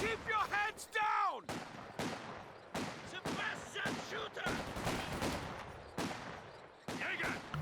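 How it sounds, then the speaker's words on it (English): Machine gun fire in Company of Heroes 2, a real-time strategy video game battle, heard as repeated sharp bursts and booms spaced across the stretch amid other combat noise, with a voice commenting over it. "now following that up with a machine gun"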